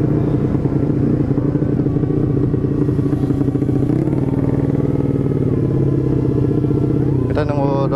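A Honda Beat ESP 125cc scooter fitted with a round Empush EM1 exhaust idles steadily nearby, a loud, even, throbbing putter that shifts pitch briefly midway, with some clatter near the end.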